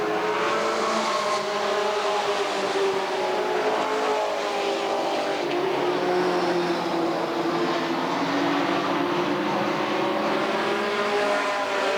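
A pack of Ford and Chevy stock race cars races at Redwood Acres Raceway, engines droning loudly and continuously, their overlapping revving tones rising and falling as the cars circle the track.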